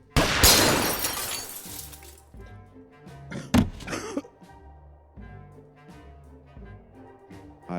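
Glass shatters in an audio drama as a soundproof window breaks under gunfire. One loud, close burst of breaking glass is followed by scattered thuds and clatters of falling debris, with a low background hum.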